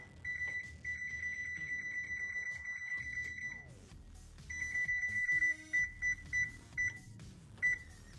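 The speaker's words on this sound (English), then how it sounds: "Set my timer." A kitchen oven timer is set with a run of short electronic beeps, then sounds a few separate beeps, close and faint in an otherwise quiet room.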